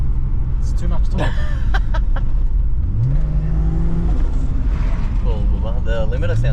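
A car engine, an R31 sleeper tuned for a lot more power, revs hard against a soft-cut rev limiter, bouncing loud and close with rising and stuttering engine tones while people talk over it.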